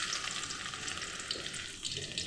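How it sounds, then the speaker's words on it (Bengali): Onions fry in hot oil in a wok, giving a dense, even hiss that holds steady and close throughout the brief moment, with no voices. "প্রথমে আমি সবজির জন্য কড়াইয়ে পেঁয়াজ দিয়ে দিচ্ছি।"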